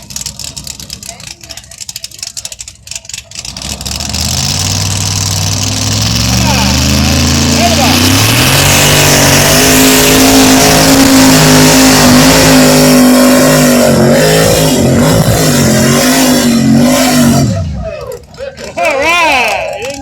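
A pulling truck at a tractor pull roars up to a loud, sustained revving engine run lasting many seconds, then cuts off abruptly, with a crowd and announcer audible around it.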